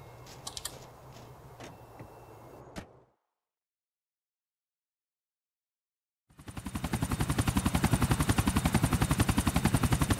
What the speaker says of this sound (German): Pass auf, ich besteige den Helikopter.